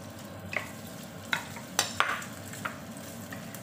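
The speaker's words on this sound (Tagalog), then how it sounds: "I-fry muna natin ang ating ham. I-fry muna natin bahagya." Ham fries lightly in a pan with a soft, quiet sizzle, broken by a few sharp clinks and scrapes of a utensil against the pan.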